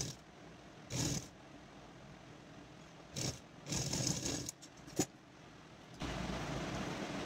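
A sewing machine stitches a half-inch folded hem on a bra-cut blouse, running in short whirring bursts and then a longer continuous run, with pauses between and no talk.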